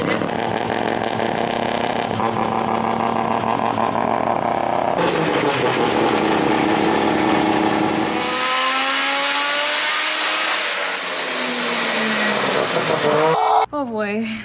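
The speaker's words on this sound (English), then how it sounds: "we're putting the car on the dyno and let Vargas work his magic" A three-rotor Mazda RX7 drift car revs hard on a dyno, its loud engine note climbing and falling in repeated sweeps, rising to a high-pitched scream before cutting off abruptly near the end.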